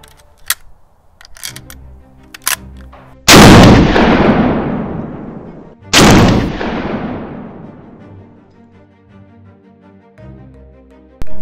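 Two loud, sharp shots from a pistol caliber carbine firing 340 grain Cutting Edge Handgun Raptor rounds, a few seconds apart, each with a long booming decay, plus faint clicks and handling noise before and after.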